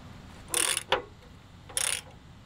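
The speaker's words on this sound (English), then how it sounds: "So now we can try to unscrew them all completely." A ratchet wrench works on rusted engine mount bolts of a Nissan Xterra, giving two short bursts of rapid clicking with a single sharp click between, close and clear, with no talk.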